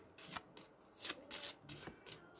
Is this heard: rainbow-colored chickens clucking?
no